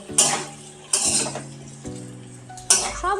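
Metal spoon scraping and clanking against a pan while chana paneer masala spices with chili powder and sugar are stirred and mixed, with four distinct sharp scrapes spaced about a second apart over a soft sizzle.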